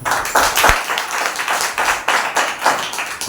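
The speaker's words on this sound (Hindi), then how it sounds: "एक जोरदार ताली बजाइए।" A church congregation claps during a Wednesday service, close and loud, with hand claps landing in rough rhythmic bursts and a few sharper strikes standing out.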